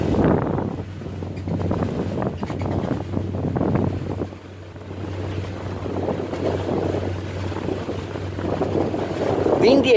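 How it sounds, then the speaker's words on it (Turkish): Strong gusting wind roars around a small Marin Boat Samba Long out on the water, with loud buffeting noise on the microphone that swells and dips continuously, and someone talks under the wind. "Bu 2 bufor falan değil, bu resmen 3. Hatta belki daha fazla."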